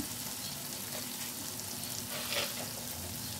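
Spices fry in a pan for a vegetarian doi potol dish, giving a soft, even sizzle with faint stirring scrapes that runs throughout, fairly quiet and without talk.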